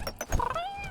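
Cat in the fantasy crafting game CraftCraft, a short gliding meow heard near and fairly clear, following a few soft clicks and taps.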